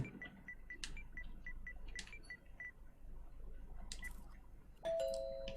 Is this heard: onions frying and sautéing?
no